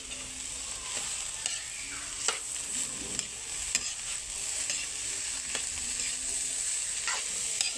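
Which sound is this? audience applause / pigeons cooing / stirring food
stirring food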